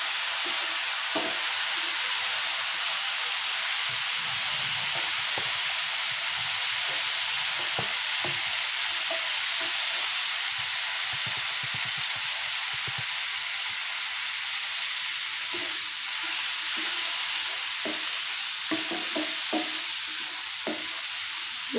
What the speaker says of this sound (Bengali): ভালো করে মশলাটাকে কষিয়ে নিতে হবে